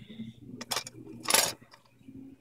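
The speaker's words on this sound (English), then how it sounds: "I'm going to stir." A spoon stirs Vinacafe Vietnamese instant coffee mix in a cup, producing a few quick close metallic clinks and scrapes against the side of the cup, separated by short pauses.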